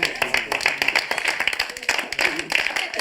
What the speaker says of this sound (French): qu'est-ce que vous applaudissez là?